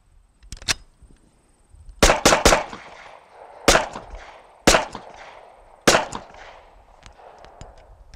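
A shoulder-stocked gun fires about five or six sharp, loud shots at uneven intervals, some in quick pairs, with faint clicks and handling noise between them.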